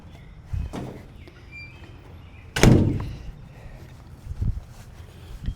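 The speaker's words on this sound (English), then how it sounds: "I do have to keep closing the door" A door thuds shut in a cluttered wood workshop, one solid knock standing out amid a few quieter bumps and faint background noise.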